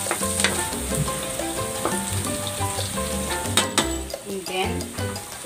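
Garlic frying in oil in a pan for adobo, a loud close sizzle with clinks and scrapes of a utensil against the pan running through it.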